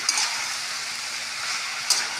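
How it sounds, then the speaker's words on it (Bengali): Sliced potatoes of a sticky North Bengal variety fry in a pan, giving a steady, close sizzle with occasional brief stirring scrapes and no voices. "এবার এটা একটু ভাজা ভাজা হোক।"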